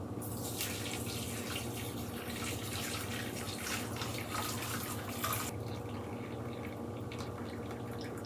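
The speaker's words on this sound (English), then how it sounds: "now I've got a big mesh strainer, and I'm just gonna pour the broth through" Pho broth pours in a steady, continuous rush through a large mesh strainer in a home kitchen, a constant splashing flow at close range that softens slightly near the end.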